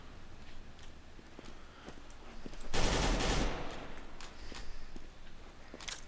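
Burst of rapid gunfire in CS:GO competitive play, loud and dense for about a second near the middle, with scattered fainter shots and clicks before and after.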